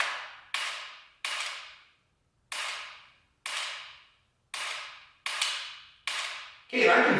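Dry trigger resets and pulls on an AR15 fitted with a Mantis Blackbeard training system: eight sharp, loud clicks at a steady pace, each with a short decaying tail, close by and with no voices.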